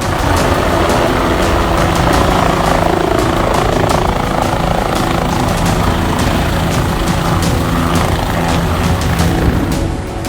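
Helicopter flying on the Char Dham pilgrimage route, a loud, steady rotor and engine roar that stays close and constant for the whole stretch, with no voices.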